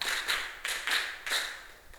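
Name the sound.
class clapping rhythm game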